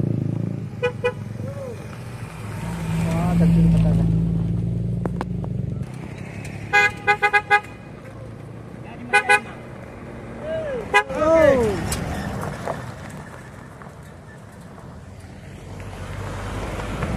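Small cars rolling past on the newly reopened Batu Jomba road, engine hum rising and fading with several short horn toots scattered through, while people talk over it nearby.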